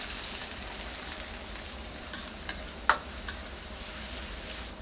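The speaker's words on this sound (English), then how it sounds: "it's time to add some onion in it" Chopped onion fries in hot oil with cumin seeds in a restaurant kitchen wok, giving a steady close sizzle with occasional sharp pops and utensil clicks as it is stirred.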